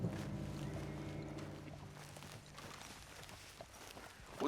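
Horse hooves from the Red Dead Redemption video game, a quiet run of soft clip-clopping steps under low ambient game sound, fading slightly toward the end.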